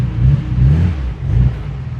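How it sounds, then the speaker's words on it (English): A Nissan 300ZX fitted with an RB26 engine rolls off ramps, its engine a loud, close low rumble that swells twice with throttle over about two seconds. "Let me get off of my ramps."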